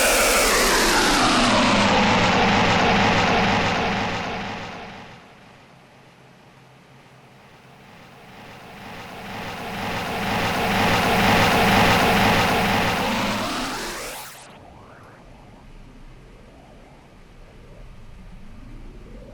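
Loud electronic feedback drone from Ratchet and Clank portal sound design, pitch bending and sweeping, dipping quieter midway, swelling again, then cutting off sharply into fainter warbling tails.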